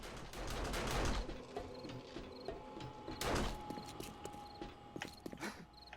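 Automated turrets in 7 Days to Die fire in short bursts of sharp, fairly quiet gunfire, with heavier bursts near one and three seconds among mechanical clicks and a faint whine, no talking.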